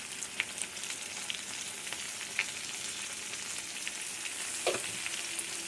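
Ground turmeric, cumin and coriander frying in a pan while being stirred, giving a steady close sizzle with small scraping clicks and no talking.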